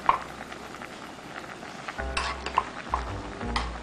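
Doenjang-jjigae soybean paste stew being stirred in a pot: a quiet bubbling start, then several clinks and scrapes of a utensil against the pot, close and unaccompanied by speech.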